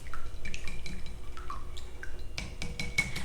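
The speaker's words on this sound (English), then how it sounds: "So let's first beat the eggs." Two eggs beaten with a whisk in a bowl for vanilla cupcakes make quick, wet, clinking strokes in a steady rhythm, close and fairly clear, picking up pace toward the end with no talking.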